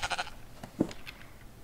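A sheep in the video game Minecraft gives a short bleat, followed by a couple of faint, brief in-game sounds.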